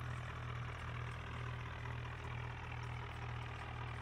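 An Arjun tractor's engine idles steadily at close range, a continuous low throbbing drone with a faint mechanical hum above it and no voices.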